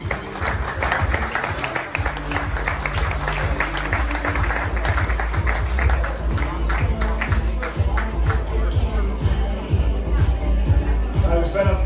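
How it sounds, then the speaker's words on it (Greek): Audience at an award ceremony claps in sustained, dense applause throughout, with crowd murmur and a voice speaking over it. "Με το χειροκρότημά σας."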